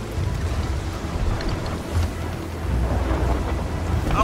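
A deep, continuous rumble of thunder in a storm at sea in the Sea of Thieves pirate sailing game, loud and rolling, with rain-like hiss throughout and no voices.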